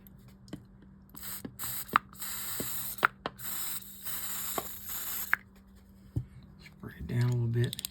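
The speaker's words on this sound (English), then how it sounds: "I think if I spray that with some WD-40 and then oil it good" WD-40 lubricant is sprayed onto the gummy anti-reverse of a Microlite fishing reel in several short, hissing bursts close up, between small clicks of handling, with a voice briefly heard at the end.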